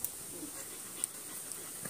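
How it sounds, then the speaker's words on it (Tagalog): A dog panting softly and steadily up close, quick breathy rhythm under a faint high hiss, with no talking. "Albi, Ay, hingal na yan."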